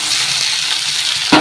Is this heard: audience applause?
no